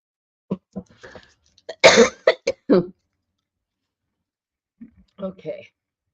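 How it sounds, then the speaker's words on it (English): A person coughs in a close, dry burst of several hacks around the middle, with a few softer throat sounds before and a couple of fainter coughs near the end; no one talks. "I need to figure out a way to stop coughing."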